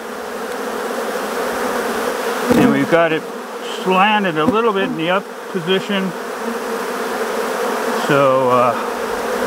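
Africanized honey bees buzz steadily in a brood box, a continuous close hum that runs beneath someone speaking.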